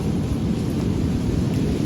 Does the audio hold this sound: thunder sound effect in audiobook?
yes